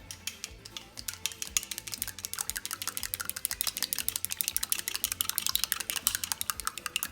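Sushi rice being stirred with a utensil after a little sugar has been added to its seasoning, a dense run of quick, soft clicking and scraping strokes close by, steady and rhythmic throughout, with no talking.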